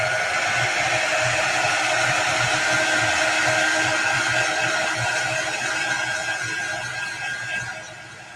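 Hair dryer blowing steadily and loud on a chalk paste craft piece, a continuous broadband whoosh with a steady motor hum that runs throughout and eases slightly toward the end.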